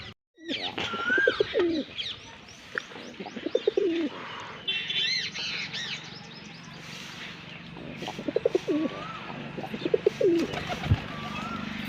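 Pigeons coo repeatedly close by, with soft chirps and a brief flutter of wings, over a low background hum.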